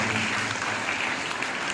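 An audience in a school auditorium gives dense, steady applause at an investiture ceremony, the clapping continuous and fairly loud throughout.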